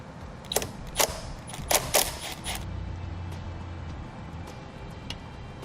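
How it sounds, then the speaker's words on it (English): A 10 mm nut comes off a battery terminal stud on a 2018 Chevrolet Malibu, giving a quick cluster of metallic clicks and ratchet ticks in the first half, then a low quiet hum. "Now we can remove this nut,"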